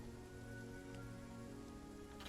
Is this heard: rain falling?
yes